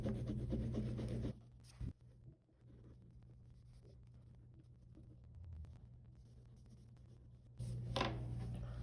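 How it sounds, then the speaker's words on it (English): Black crayon rubbed over a colored scratchboard surface, a soft, faint scratchy rasping that continues steadily, with louder broadband noise at the start and end. "cover as much of the color as possible so it's just a smooth layer of black crayon."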